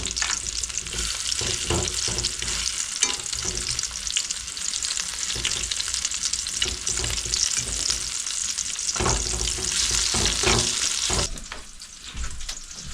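Meat fries in a pan outdoors in a wild setting, a loud continuous sizzle broken by repeated stirring scrapes and clatters, easing off briefly near the end.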